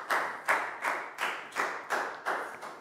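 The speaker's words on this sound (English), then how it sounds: "High five and a big round of applause for Pak Bung" A class of Year 4 pupils claps in steady unison for a classmate, about eight evenly spaced, crisp hand claps at close range.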